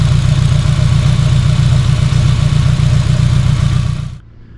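A 2006 Honda S2000 AP2 engine idles steadily up close with a loud, even low rumble and a fine rhythmic pulse, running smoothly before cutting off abruptly near the end.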